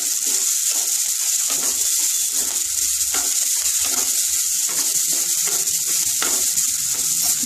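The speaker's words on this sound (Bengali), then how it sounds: "ভালো করে এটা ভেজে নেব।" Vegetables frying for a vegetable oats dish, a steady loud sizzle with bright hiss and intermittent crackles and stirring scrapes throughout, no talking.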